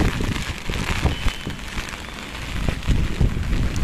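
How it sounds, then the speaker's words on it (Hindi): Steady rain pours down outdoors during the monsoon season, a dense continuous patter with scattered louder drops, fairly close and with no voices. "पूरी रात हमारे यहाँ बारिश रही, और अब पूरा दिन हो रहा है तभी भी बारिश है ना चालू है।"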